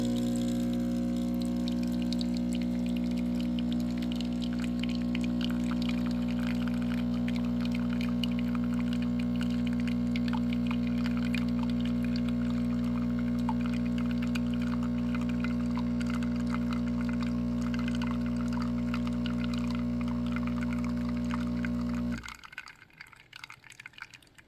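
ILAVIE espresso machine running its pump while pouring a double shot, a steady close mechanical hum with faint trickling and dripping above it, stopping abruptly near the end.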